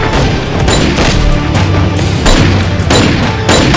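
Gunfire in an action film shootout in a trash-strewn yard, dense rapid bursts of loud shots and booming impacts hitting in quick succession, with no voices over the barrage.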